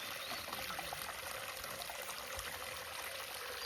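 Water trickling and pouring steadily in a hot spring pool, a continuous close wash of liquid with no voices.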